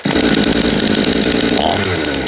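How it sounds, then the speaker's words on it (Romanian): A newly started chainsaw running steadily at idle after being restarted from a flooded condition, a loud, close, buzzing two-stroke engine drone with a slight shift in pitch near the end. "acum putem să pornim drujba în mod normal"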